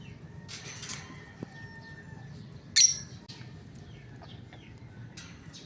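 A pet bird calling at its nest while laying eggs, with a few short chirps and one brighter, louder call midway, fairly close over a low background hum.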